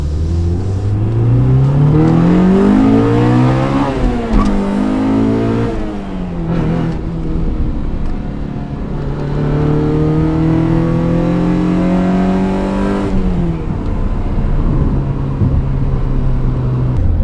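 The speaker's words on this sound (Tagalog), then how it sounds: "Iba talaga humiyaw ang VTEC ng all motor." Honda VTEC naturally aspirated engine with a full exhaust revving hard, rising through the gears in repeated climbing pulls with brief drops between shifts, loud and close throughout.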